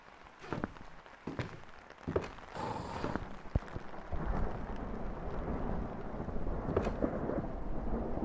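A thunderstorm in a horror game brings scattered low thuds and rumbles, then a swelling steady roar of rain and thunder that grows louder and stays dense to the end.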